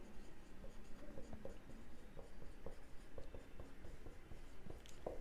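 Pen writing accounting entries by hand on paper, a soft continuous scratching with small rhythmic strokes, close and quiet, with no speech.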